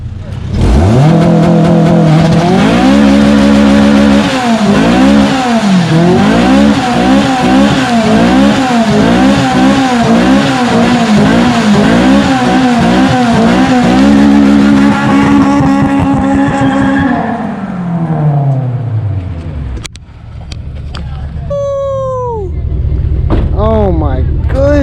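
A Mitsubishi 3000GT VR-4 is driven hard, its engine loud and close from inside the car as it revs up and down through gears for most of the stretch, then drops back with some squeaky sounds at the end; voices talk over it.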